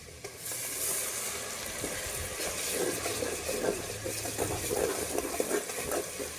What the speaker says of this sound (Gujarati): ડુંગળીની ગ્રેવી નાખી દેશું